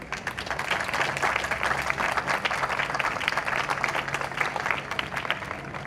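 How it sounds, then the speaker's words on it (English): Dense, sustained applause from a sizeable crowd at a community fair, honouring the organising committee, a steady wash of many hands clapping together without pause. "So we would definitely like to give ICCA committee members a big round of applause"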